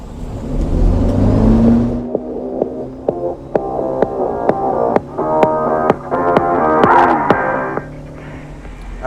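A 2026 Malibu 22LSV wake boat engine roars and then throttles up to full, its pitch climbing in steps with sharp clicks and a throbbing hum as it builds speed onto plane.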